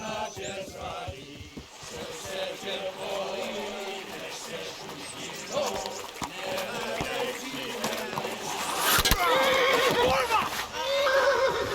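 A horse neighs and whinnies in the medieval game Kingdom Come: Deliverance, with hoof clip-clop and battle noise around it and voices talking over the scene, the loudest whinny rising near the end.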